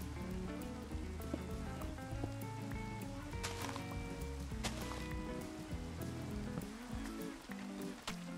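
Steady rain patters across a Minecraft world, a continuous wash of drops mixed with layered game music and sound effects, with no voices.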